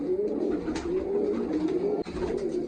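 Large pure-bred pigeons cooing in a steady low rolling warble, close and continuous, with a faint thump near the end.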